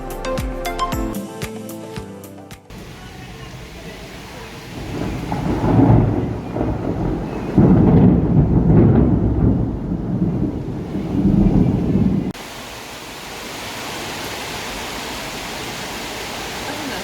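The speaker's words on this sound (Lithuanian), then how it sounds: "Va čia tai tropikai, pila kaip iš kibiro, liūtis, griaustinis" A heavy tropical downpour in Phuket, Thailand, roars steadily, swelling into dense pounding rain with deep rumbling thunder midway before easing to a softer, even hiss; a brief musical passage opens it.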